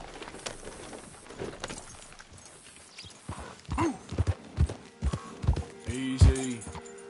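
Horse hooves clip-clop as a horse is ridden in a PS4 video game, with a steady run of distinct hoof beats coming through at moderate loudness after a quieter start.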